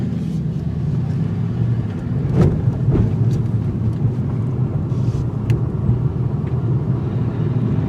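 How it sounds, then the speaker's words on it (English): A 2021 Mercedes-AMG E63 S sedan rolls over speed bumps at about 20 mph, a steady low cabin rumble with a couple of brief thumps near the start as the wheels hit the bumps. "we're going to take some speed bumps around 20 miles per hour like we always do and see what happens"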